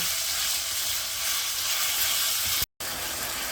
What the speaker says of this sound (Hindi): चिकन को 4 से 5 मिनट के लिए ऐसे कुक करेंगे जब तक कि इसका कलर चेंज ना हो जाए। हमने फ्लेम हाई रखना है।